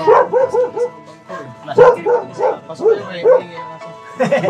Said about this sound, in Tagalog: Siguro pasok tayo para hindi maingay yung aso.